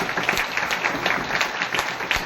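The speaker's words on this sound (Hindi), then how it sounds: "इसलिए खुद के लिए दमदार तालियां होना चाहिए।" People at a meeting applaud in a continuous spatter of hands clapping that carries through the whole stretch, without a clear start or finish.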